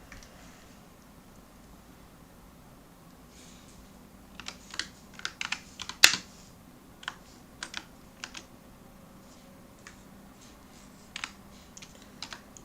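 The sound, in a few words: typing on a computer keyboard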